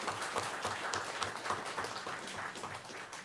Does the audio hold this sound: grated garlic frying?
no